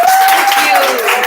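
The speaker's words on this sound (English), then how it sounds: "Let's clap it up." An audience claps briefly in a quick burst, close and fairly loud, with a voice over it.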